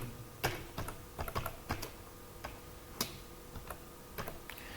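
Typing on a computer keyboard during website home-page design: quiet, irregular key clicks and taps, some in quick little clusters, with no voice.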